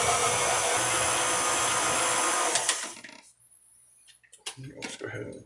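A stand mixer creams cookie dough for white chocolate macadamia nut cookies, a steady loud motor whir running for a few seconds before cutting off, followed by clatter and handling noises.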